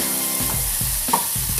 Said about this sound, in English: So pour the beef into the pan. So we just stir it out.